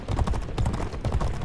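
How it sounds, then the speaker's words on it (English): Galloping racehorse in the 2008 racing game G1 Jockey 4, a fast rhythmic drumming of hoofbeats, steady and close, running continuously without talk. "the pace starting to quicken with this horse right now"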